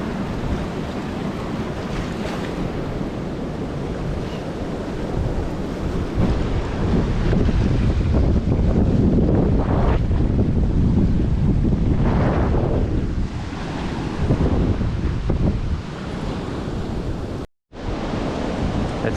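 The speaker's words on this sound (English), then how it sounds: "That's got to be the strongest gust of wind yet." Strong outdoor wind on a blustery day in Indiana roars steadily across the microphone as loud, rumbling buffeting that swells into heavier gusts midway, with a brief dropout near the end.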